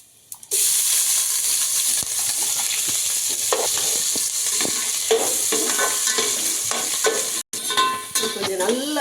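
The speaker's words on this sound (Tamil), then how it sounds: "நல்லா கடுகு பொரிஞ்சதுக்கப்புறம் தான் இந்த வெங்காயமும் பச்சை மிளகாயும் சேர்க்கணும்." Onion and four green chillies sauté with popped mustard seeds for a Pongal koottu, giving a loud, continuous sizzle with stirring scrapes. The sound cuts out for a moment near the end, then resumes.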